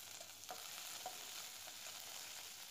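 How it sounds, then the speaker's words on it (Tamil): Fenugreek and cumin seeds splutter in hot oil in a pan for bitter gourd thokku, a steady faint sizzle broken by a few sharp pops, with no talking. "கொஞ்சம் வெந்தயம், கொஞ்சம் ஜீரகம் போட்டு பொரிய விடுங்க."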